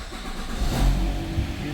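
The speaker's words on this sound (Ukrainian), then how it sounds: "Давайте послухаємо роботу двигуна." A 2008 Nissan X-Trail engine idling, a low steady rumble with a slight swell partway through, heard briefly and fairly close.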